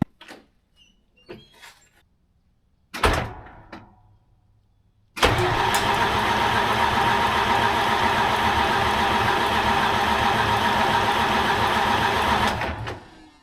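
A 1973 Freightliner cabover with a straight-piped Detroit 8V71 two-stroke diesel and its blower refitted cranks briefly, then catches and roars into a loud, raw idle that runs for several seconds before cutting off, preceded by a few clanks and knocks.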